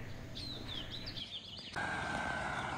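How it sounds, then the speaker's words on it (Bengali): Birds call around a hotel in Kohora, Kaziranga: a run of clear, high, warbling chirps sounds fairly close against steady outdoor ambience, and a brighter, busier chorus follows. "আর চারিদিকে এরকম পাখির ডাক"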